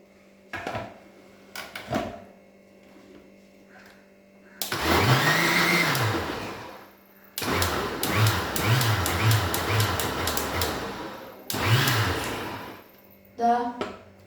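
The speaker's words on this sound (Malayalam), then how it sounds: "ഇത് വീണ്ടും ഒന്ന് അടിച്ചെടുക്കാം." A mixer grinder blending juice with milk whirs loudly in several bursts with short pauses between, its motor rising and falling as it blends; faint clatter and brief voices sound in the gaps.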